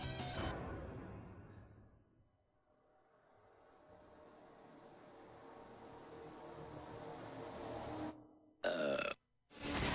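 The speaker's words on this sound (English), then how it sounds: "I didn't know burps could be so devastating." A long, loud, rumbling burp from an anime-style fight reaction, swelling and fading over several seconds before a sharp burst of sound and a brief cut at the end.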